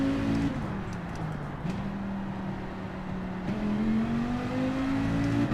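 Race car engine in Gran Turismo 7 accelerating under early throttle, a steady droning whine that climbs in pitch, drops at gear shifts and rises again, loud and continuous with no talk.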